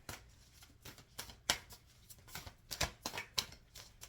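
Tarot cards being shuffled by hand, with a run of crisp riffling bursts and flicks at an irregular pace, fairly close and quiet, with no talking.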